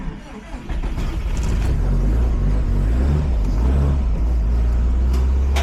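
A worn Subaru WRX STI is started while in gear, its engine catching with a short crank and then settling into a loud, steady rumbling idle close by.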